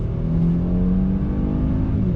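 A 2019 Mercedes-Benz S450 engine revs up steadily and loudly under hard acceleration, a continuous rising drone with no voices.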